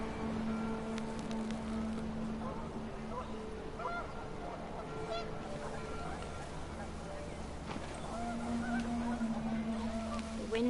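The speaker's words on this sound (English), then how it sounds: "panicked geese appeared and quickly went" Panicked geese in a PS4 video game honk repeatedly at a moderate distance under a steady narrating voice, with a constant background ambience throughout.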